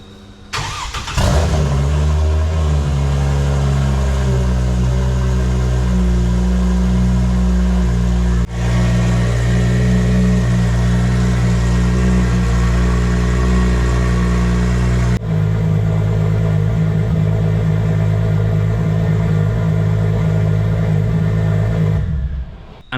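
A car engine cranks and fires inside an industrial shed, then settles into a loud, steady idle with a few rises in revs, close and alone.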